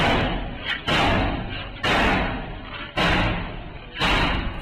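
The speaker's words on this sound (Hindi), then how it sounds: "लेकिन इस बार दरवाजा लात से खुल गया।" A door is kicked during army training, with four or five heavy, echoing slams at roughly one-second intervals, each impact loud and followed by a short ringing decay.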